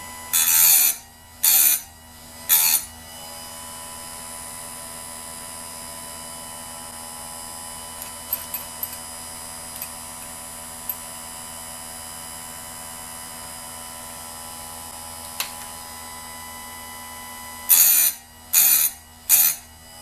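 A bench grinder sharpens the chain of a McCulloch 3516 chainsaw, its motor holding a steady high whine with brief harsh grinding bursts at the start and end, close and alone without speech.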